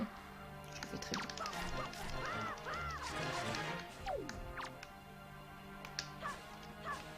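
Birds squawk and caw repeatedly in the video game Zelda: Wind Waker, the quavering calls rising and falling over busy game sounds and music at a moderate level.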